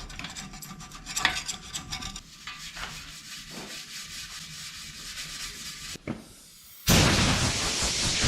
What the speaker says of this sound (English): We use the putty knife on some of the thicker stuff